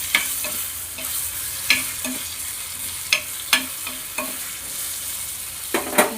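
Turmeric and chili powder sautéed with drumsticks in a pan, a steady soft sizzle broken by several sharp scraping stirs of a spoon at irregular intervals, close and alone.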